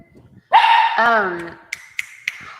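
A dog gives a drawn-out whining bark close by, followed by a few short sharp yips spaced apart.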